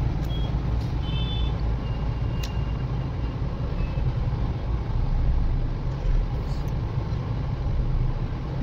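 Heavy road traffic in Jaipur: a dense, continuous rumble of car and truck engines close by, with a few brief high beeps or horn tones cutting through the steady roar.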